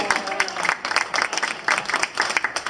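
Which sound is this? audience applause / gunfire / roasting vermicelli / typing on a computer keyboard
audience applause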